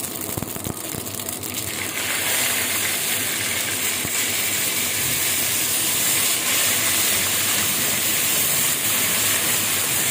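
Garlic-ginger paste hits very hot oil seasoned with fennel for spiced okra, setting off a loud, steady hissing sizzle that swells after the first couple of seconds and roars on unbroken.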